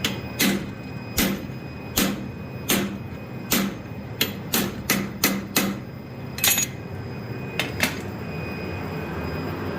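Blacksmith striking a 1/8 inch fuller with a hammer while forging a donkey head, a series of about a dozen sharp metallic clinks in an uneven rhythm, close and loud over a faint background hum.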